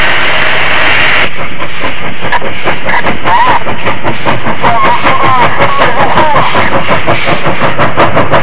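A JS class steam locomotive working in China in 1996 chuffs close by, loud rapid exhaust beats under a steady hiss of steam, with no one talking.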